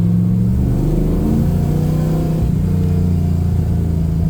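A 1969 Camaro Super Sport engine pulls hard in first gear on a highway, its loud, close rumble climbing steadily in pitch, dipping briefly, then rising again without any talk.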